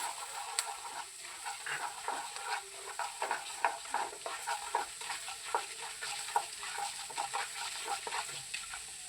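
Roasted gram fries with mustard seeds and urad dal in hot oil for rava upma, a soft continuous sizzle under repeated scraping stirs of a spoon against the pan, close and fairly quiet, no voices.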